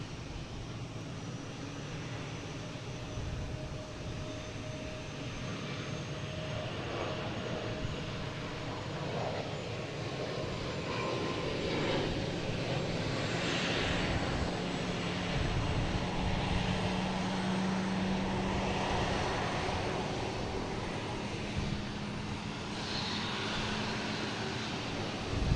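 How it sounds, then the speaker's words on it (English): A JetBlue Airbus A321neo jet airliner takes off at Boston Logan airport, a sustained broadband engine roar that swells gradually and holds steady at a moderate distance for the whole stretch, with no talk over it. "we have a JetBlue taking off, heading to San Francisco on A321neo"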